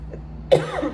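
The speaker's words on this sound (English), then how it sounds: "I didn't start coughing like this till I started recording." A single sharp cough bursts out at close range, followed by a rough, breathy trailing sound, with a low steady hum underneath.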